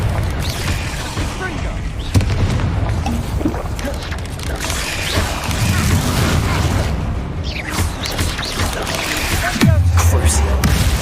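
Explosive spell blasts in a Harry Potter video game on PS5, a dense, continuous rumble of booms, bursts and low thuds, with several heavier hits standing out against busy battle noise.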